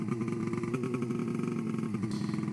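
A snowmobile drives in the Roblox game Snow Shoveling Simulator, giving off a steady, buzzing motor drone at an even pitch with a slight rhythmic flutter, close and unbroken throughout.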